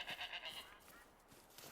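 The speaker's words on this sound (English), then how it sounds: "Ah, I told you. The goats are still here." Goats bleating in the hunting game Call of the Wild, in Scotland: a few short, fairly faint bleats in quick succession, then quieter background with a voice speaking lightly underneath.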